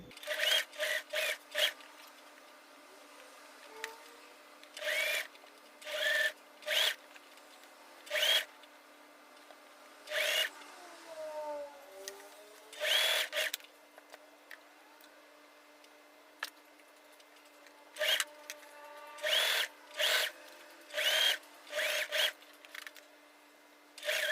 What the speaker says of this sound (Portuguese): vamos pra máquina agora pra passar novamente a costura nessa linha aqui